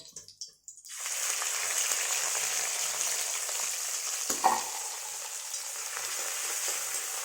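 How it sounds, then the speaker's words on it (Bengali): Prawns seasoned with salt and turmeric drop into hot oil after a few quiet knocks, bursting into a loud, steady frying hiss that carries on with one brief clatter midway, no voices. "চিংড়ি মাছটা এখন তেলে আমি দিয়ে দেবো"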